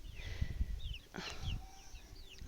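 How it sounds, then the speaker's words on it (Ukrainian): Leghorn roosters in a farmyard coop give brief scattered calls and clucks, mid-distance and fairly faint over low rustling background noise, with no talk. "В основному самі півні тілегорні."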